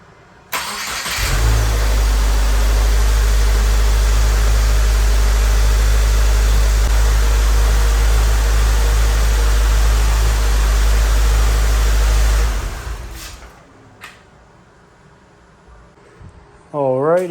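A 2022 Subaru WRX engine, freshly serviced with its first oil change, starts and idles steadily and loud with a deep low rumble for about eleven seconds, then shuts off, leaving quiet space and a brief voice.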